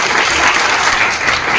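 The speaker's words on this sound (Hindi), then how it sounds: "एक बार हमारे बीच में हमारे सर, मेंटोर, गुरु आज के विजय बड़ोदिया सर के लिए शानदार जबरदस्त वाली ताली बजा दीजिए।" An audience at a live RCM DTW program in Ludhiana applauds in a loud, continuous wash of clapping that holds steady throughout.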